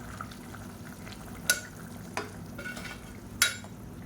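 Soaked rice is stirred into boiling water in a pot for a street-style veg biryani, with a low bubbling simmer throughout and three sharp scraping clatters of the spoon against the vessel, no voices.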